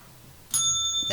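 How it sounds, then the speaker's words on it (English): A bell rung for traders gives a single bright, ringing strike that sustains with clear overtones, followed by the start of a second strike, close and loud over faint background noise. "that bell's for you."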